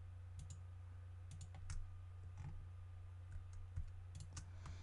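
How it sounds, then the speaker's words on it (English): Mouse clicks in Illustrator, holding shift while clicking shapes with the selection tool: several soft, close clicks scattered at irregular intervals over a steady low electrical hum, no voices. "So I'm just holding shift and clicking with my selection tool."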